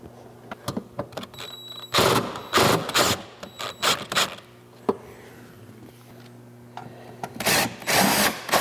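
Bolts are driven back into a cold air intake plate during an S&B intake install with a power drill, short whirring bursts separated by pauses and small clicks of metal parts, close and loud.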